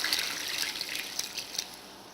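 Curry sauce for a Mayflower-style chicken curry pours into cooking chicken, a short, close liquid trickle and glug with no speech over it.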